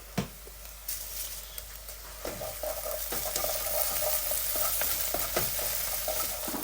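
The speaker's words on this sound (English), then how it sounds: "So I'm going to put in the spicy pastes. And then give that a mix." Browning mince with spicy pastes sizzling in a pan while being stirred and mixed, with steady frying hiss and repeated scraping knocks of the utensil, close and fairly loud.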